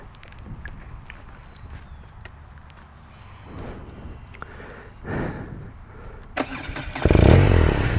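A 2017 BMW RnineT Racer motorcycle with low mileage is started up, with faint shuffling beforehand and the engine catching loudly at the end, close by.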